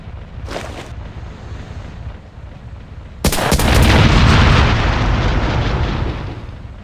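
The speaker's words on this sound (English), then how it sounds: "Big explosion. That's, I think, that artillery should blow up to symbolize the ammunition getting destroyed." Artillery explodes in a video game, a sudden loud blast that cuts through steady low rumbling and then roars on in a long, noisy decay.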